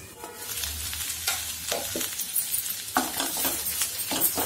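Broad beans stirred in a pan after salt goes in, a spoon scraping and clinking over a steady close sizzle with no talking.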